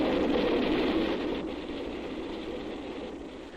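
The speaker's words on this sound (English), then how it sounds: "As this train approaches, let's see how close it comes before we hear it." A steady, loud rumbling roar of a train approaching a crossing, constant and broad, fading slightly toward the end.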